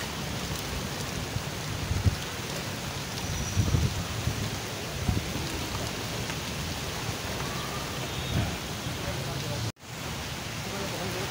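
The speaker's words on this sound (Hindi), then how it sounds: "ये देखें बारिश हुई है" Steady rain falls over an outdoor livestock market where goats have sheltered inside, a continuous hiss of drops with a few louder spatters and faint voices beneath.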